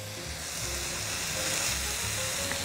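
A slice of watermelon topped with cheese sizzles steadily in a hot pan, a continuous close crackling hiss with no talking.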